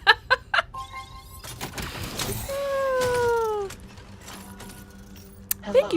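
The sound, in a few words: cat meowing in video game Death Stranding 2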